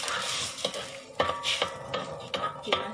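Water and sugar going into a wok over fairly high heat for a sugar syrup, with a series of close metallic scrapes and clinks against the pan and faint sizzling in between.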